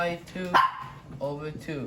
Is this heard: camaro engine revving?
no